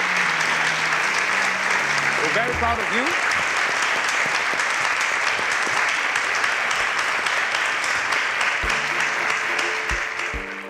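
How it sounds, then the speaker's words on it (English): Sustained audience applause for a contestant at the end of a Nigerian SPAK 2.0 quiz-show round, loud and steady throughout, with a presenter speaking briefly over the clapping. "Please, a round of applause for Iyanu"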